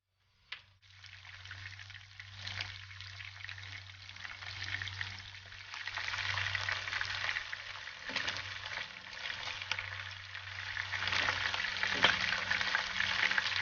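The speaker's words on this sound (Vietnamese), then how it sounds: "mình cũng bỏ tôm vào chiên ý như vậy" Shrimp for salt and pepper shrimp sizzle in a frying pan, starting with a sharp clack as they drop in, then a continuous crackling fry that slowly grows louder.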